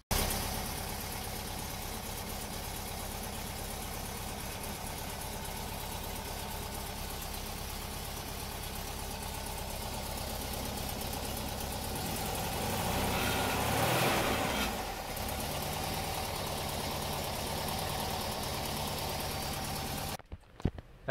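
A Volkswagen Type 3 air-cooled engine with a 123ignition distributor idles steadily with a constant low rumble, briefly revving around the middle before settling back, then cutting off abruptly at the end.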